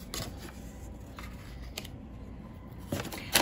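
A small cosmetics package being opened at close range, with soft rustling and crinkling and a few sharp clicks and snips, quiet throughout and with no talk.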